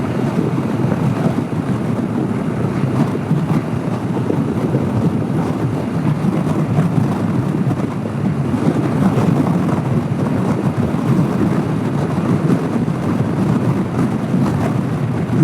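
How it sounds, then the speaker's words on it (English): Strong steady wind of about 30 plus roars across the mic on a Honda CB500X motorcycle commute, a dense continuous rushing buffet with no break for the whole stretch and no voices. "Man, that's some wind."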